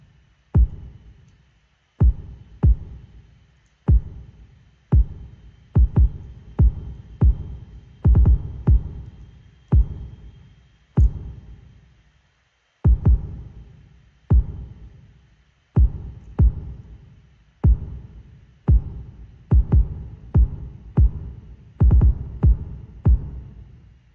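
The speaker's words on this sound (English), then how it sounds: "let's put reverb on his kick." A steady series of booming kick drum hits in FL Studio, each trailing off in a long reverberant tail, with occasional quick double hits breaking the even pulse.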